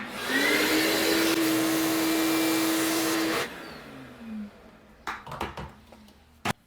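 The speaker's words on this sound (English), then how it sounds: "so I'm just gonna vacuum it up" A vacuum cleaner sucks up leaking coolant from the engine bay of an old abandoned Mustang, a loud steady whine and roar that cuts off after about three seconds and leaves a few clanks and rattles.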